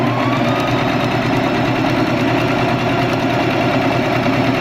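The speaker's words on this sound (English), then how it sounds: "Let's do a size 8 straight stitch going around." A sewing machine runs a steady size 8 straight stitch around the edge of a fabric baby bib, its motor humming evenly with a close, continuous mechanical rattle throughout.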